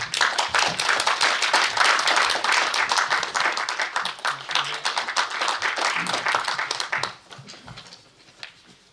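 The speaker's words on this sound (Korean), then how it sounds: "박수로 환영해 주시기 바랍니다" An audience at a general assembly and inauguration ceremony claps enthusiastically for about seven seconds, a dense wash of applause that then thins out into a few scattered claps.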